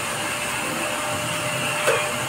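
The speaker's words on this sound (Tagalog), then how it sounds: "Nagpa-vacuum na sila ngayon. Sa loob. Ang car." A vacuum cleaner running inside a car's interior at a car wash, giving a steady, loud, continuous whine and roar with a brief rattling bump near the end and no voices.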